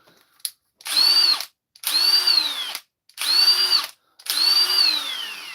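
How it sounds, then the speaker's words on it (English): A Milwaukee Fuel brushless One-Key impact driver runs in four loud, close bursts of about a second each, separated by short pauses, with a high whine that dips and rises within each burst. No voices are heard. "We've got a fuel, brushless, actually one key, impact driver. And she's going."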